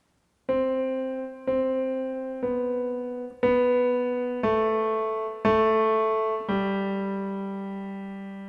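Seven piano notes played one at a time with the left hand at a slow, even pace, each ringing and decaying before the next, with a gradual descent in pitch.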